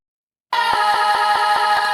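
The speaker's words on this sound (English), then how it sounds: "Without any effects, the vocal chops sound like this." Dry, unprocessed vocal chops from a remix, pitched snippets of a sung vocal repeating in a quick even rhythm of short syllables after a brief silence, alone and up close.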